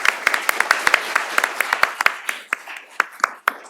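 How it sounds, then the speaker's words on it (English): Applause from a small audience at a law and ethics talk, sparse individual claps ringing out sharply at uneven intervals, thinning toward the end. "Big round of applause."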